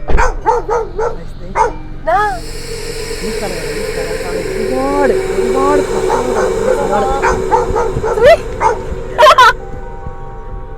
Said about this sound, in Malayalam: പട്ടിയാണോ